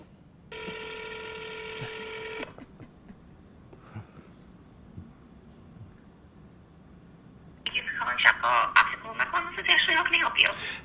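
Touch-tone telephone dialing: a steady run of stacked tones for about two seconds, a quiet pause with faint background, then a louder burst of bright, jangling ringing that continues to the end.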